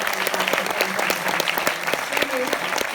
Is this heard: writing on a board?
no